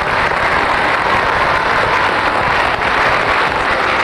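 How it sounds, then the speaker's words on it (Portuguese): A studio audience on the Brazilian TV game show Roda a Roda, in 2003, applauds the three contestants, a dense, loud, unbroken wash of clapping that lasts about four seconds. "Mas vamos aplaudir os três participantes, o Ratinho, a Hebe Camargo e o Hermano Henni"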